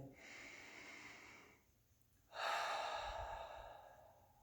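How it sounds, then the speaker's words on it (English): One person takes a big breath, a soft drawn-in inhale lasting over a second, then after a short pause a longer, louder exhale, close and quiet with no talking. "take a big breath in and out"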